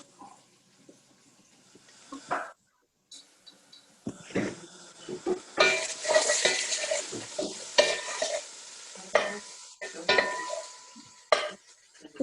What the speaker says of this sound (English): we've just put our pan on and we've just put our 2 chopped onions in and we're just cooking